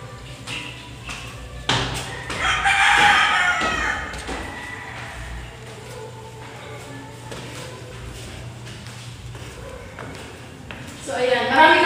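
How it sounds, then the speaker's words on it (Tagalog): Birds around a new, unfinished house with no ceiling yet call in the morning, including a rooster crowing and fowl clucking in short bursts at a moderate distance, heard under someone talking. "So ayan, marami na yung ibon dito."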